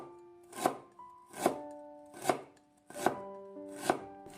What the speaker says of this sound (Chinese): 一小块生姜先切成薄片